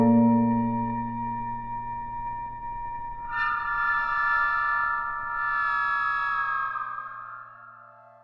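A synthesizer preset named A Terror for a trailer track: a sustained, layered harmonic drone with low rumble that swells into a brighter, wavering upper tone around the middle, then fades; no voices.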